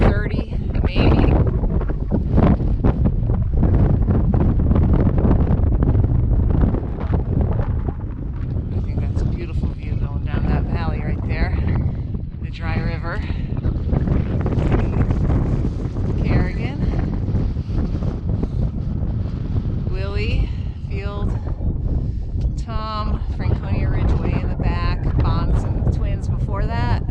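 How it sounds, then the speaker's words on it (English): Strong wind gusts buffet the microphone on the summit of Mount Eisenhower, a loud continuous roar with surging gusts while someone talks over it at intervals. "The wind is less than they said it would be. I would say the gusts are maybe hitting 30, maybe."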